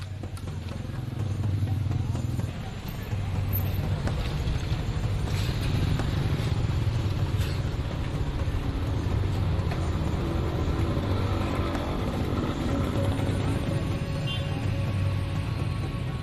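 Motorcycles and other road traffic rumble through a busy street market in Ubud, Bali, giving a steady close engine drone with passing revs and clatter, while voices murmur faintly underneath.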